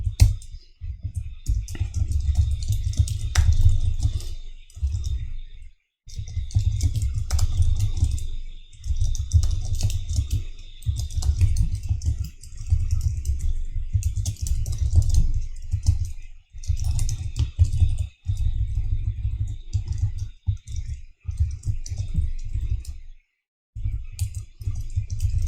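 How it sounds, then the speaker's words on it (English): Code being typed quickly on a computer keyboard: a steady run of close, rapid keystroke clicks with brief pauses, over a constant low hum, with no talking. "I'm gonna just type it out really quickly."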